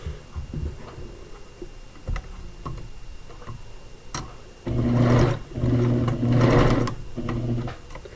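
Sewing machine tacking down elastic on a turned cloth diaper, with a few soft ticks and clicks early on before a loud, close, steady whir of stitching runs in three bursts with short pauses between them.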